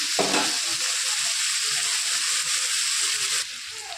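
Onions sizzling steadily in a pan of hot oil for mutton kosha, with soft scraping of a stirring spoon and a brief splash near the start, close and continuous.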